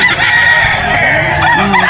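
Many roosters and chickens crowing over one another at a crowded poultry market in Bocaue, a loud, continuous layered din with no clear gaps.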